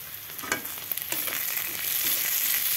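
Chopped onion and tomato fry with salt and turmeric in a hot pan, giving a steady, close sizzle with a few scraping stirs early on.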